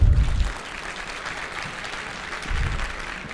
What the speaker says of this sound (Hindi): अगर पता है तो जोर से ताली बजाएं आप लोग